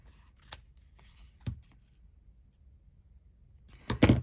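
Scissors trim paper during a crafting session, producing a few quiet, separate snips and rustles, with a louder cluster of cuts near the end.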